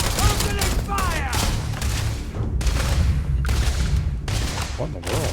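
Gunfire in a video game: sustained loud bursts of rapid automatic shots in several volleys separated by brief gaps, with booming low thuds and ringing, close and dense.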